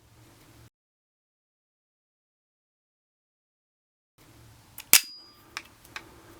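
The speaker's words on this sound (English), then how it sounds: "Alright, we have the Dicle, and this is another 3-round firing test." An EKOL Dicle 9mm P.A.K. blank pistol loaded with Fiocchi blanks fires three sharp, loud reports after a stretch of silence: one big crack followed by two lighter shots in quick succession.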